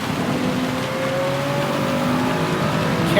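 A Toyota Supra race car in Gran Turismo 7 drones with a steady, sustained engine tone, loud and close, its pitch rising slightly toward the end.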